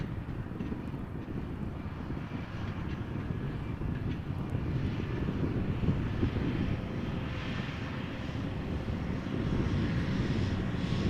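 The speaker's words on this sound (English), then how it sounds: "KLM flight 1456 E2 Embraer 195 arriving from Nantes." A KLM Embraer E195-E2 jet landing at Amsterdam Schiphol in crosswind, its engine roar a steady broadband rumble heard from a distance, mixed with gusting wind buffeting the microphone throughout.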